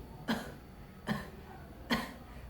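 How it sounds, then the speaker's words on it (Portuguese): A patient recovering from abdominoplasty surgery gives three separate soft coughs, evenly spaced and close. "E pode tossir."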